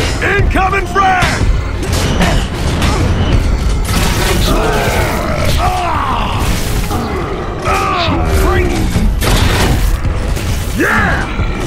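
A frag grenade going off in the Gears of War 3 game, with deep booms and crunching blasts mixed into ongoing gunfire, clanking mechanisms and shouted character voices across a loud, busy firefight.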